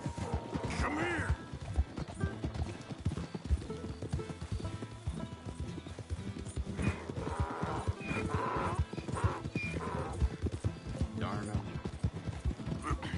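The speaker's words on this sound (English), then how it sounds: "It's just a donkey, idiot." Donkey hooves clop steadily in Red Dead Redemption 2, a continuous busy rhythm of hoofbeats with horse whinnies and game sounds, while someone talks over them.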